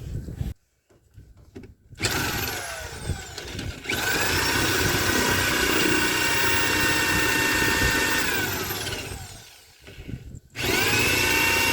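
A power drill grinds into the aluminum steering column housing of a Ford Flareside truck, running in loud sustained bursts with a short pause near the start and a brief stop before resuming.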